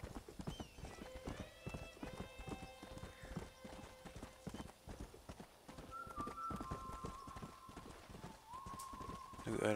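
Hooves clip-clopping steadily as a horse is ridden in Red Dead Redemption, a quick even rhythm kept up throughout at moderate volume, with faint tonal game sounds over it.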